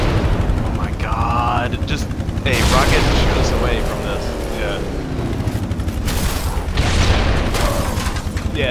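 Rocket launcher blasts and gunfire from Halo 3 gameplay in a rocket race mode, dense repeated booms and shots running throughout, with players talking over the action.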